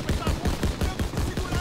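Rapid bursts of rifle and machine-gun fire in the World War II shooter Call of Duty WW2, sharp repeated shots in a quick, steady rhythm, loud and close.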